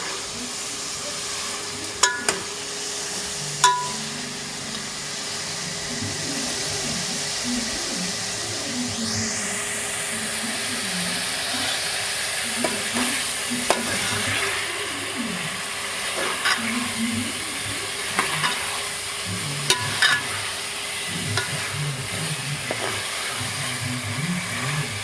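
Masala frying and sizzling in a pan for chicken achar gosht, a steady hiss under a low rumbling background hum, with occasional sharp utensil clicks and a brief rising whistle-like sweep partway through, no voices.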